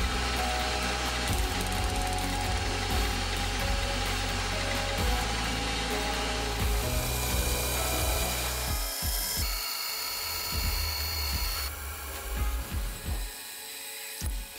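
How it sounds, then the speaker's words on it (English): Steel hand vise parts being drilled for pivot holes on a machine, then reamed undersize to size: a steady, loud machining whir and grinding with scraping bursts, shifting tone partway and ending in scattered knocks and clicks. "I've drilled the holes undersize and then followed with a reamer to ensure a good snug fit with the pivots"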